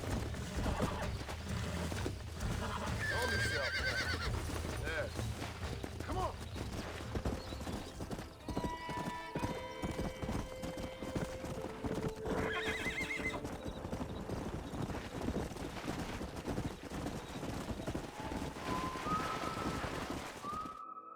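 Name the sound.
stallion neighing and hooves in video game Red Dead Redemption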